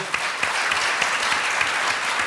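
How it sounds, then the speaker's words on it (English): A panel audience gives a short round of applause for a panelist, a dense, steady burst of clapping throughout. "Another round of applause for Evelyn."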